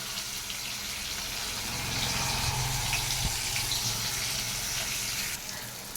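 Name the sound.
pouring half a cup of water into cooking spices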